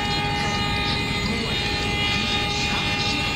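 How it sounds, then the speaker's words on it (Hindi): A locomotive horn sounds in the MSTS train simulator game on an old ICF Rajdhani run, a steady held tone over continuous engine and rail rumble. "सेकंड हॉर्न बजा देते हैं।"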